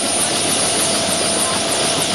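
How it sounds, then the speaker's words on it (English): A helicopter flying over the flooded West Quincy, Illinois area during the 1993 flood, its loud steady rotor chop and engine roar filling the air continuously, close by. "That's the same helicopter we saw over in Quincy."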